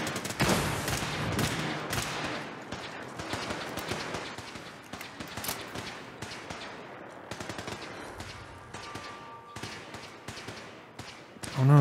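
Rapid bursts of gunfire aimed at a robot in Fallout 4, with dense overlapping shots that stay close and loud across the whole stretch, a thicker volley early on and a sharp blast right at the end.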